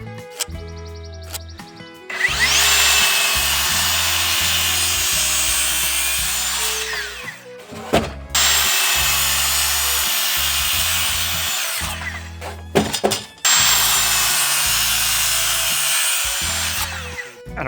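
Power saw cutting to trim a wooden middle post while building a shop, three loud sustained cuts with short pauses between them, close and alone without talk.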